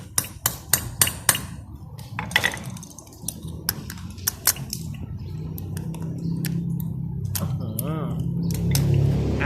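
Sharp metallic taps ring out in quick clusters, light knocks on a stuck carburetor float pin from a Yamaha Nouvo MX scooter, fading as a steady hum and faint talk take over.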